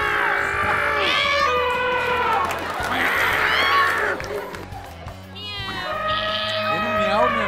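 Several contestants on a TV game show imitate cat meows with their voices, in rising, wavering calls that overlap with talking and studio noise.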